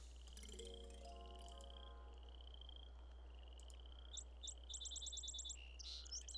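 Sparrow song from the SimPark video game: bright, quick chirps arrive in a rapid burst of repeated notes toward the end, over a quiet electronic backdrop with a few tones earlier on.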